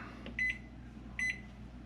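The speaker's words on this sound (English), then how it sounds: "I guess I better set the timer." A kitchen timer being set gives two short, quiet electronic beeps about a second apart against a faint room hum.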